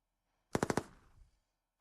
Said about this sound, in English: I got a sniper right here and it's sniping right now.